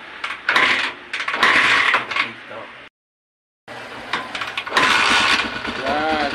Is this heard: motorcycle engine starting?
yes